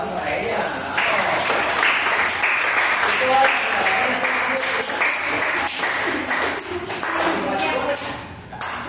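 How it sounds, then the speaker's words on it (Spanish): Children in a dance workshop applauding a guest, scattered light clapping with taps and shuffling while adults talk over it, tapering off near the end. "Un aplauso para ella."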